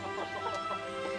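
Free-range farm chickens clucking at feeding time, a steady cluster of soft, close clucks and murmurs from several birds with no talking.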